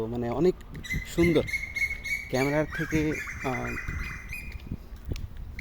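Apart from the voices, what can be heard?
birds calling in a quiet Malaysian neighbourhood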